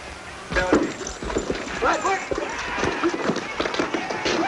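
Horse hooves clip-clop in a 1935 Western film scene, steady thudding steps under talking and background movie sound.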